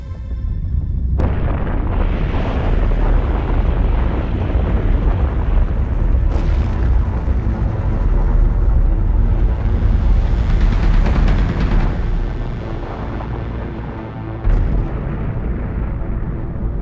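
Atomic bomb explosion heard as a long, loud, continuous deep roar and rumble that swells and slowly fades, with a sharp crack near the end.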